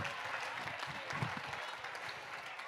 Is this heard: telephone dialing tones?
no